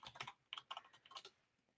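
Password being typed on a computer keyboard: a quiet, uneven run of light key clicks in short bursts with small pauses, close and clean with no talking.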